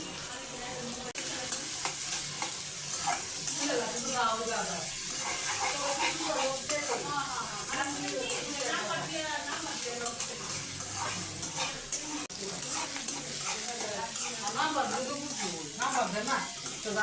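Onion dropped into hot oil with marinated chicken giblets, liver and bones, frying with a steady, dense sizzle throughout, near and fairly loud, with stirring and some faint background voices.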